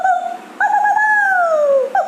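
A dog howls in a single drawn-out, wavering cry that rises and slowly bends downward, with a brief yelp at the end, heard clearly and alone without any talking.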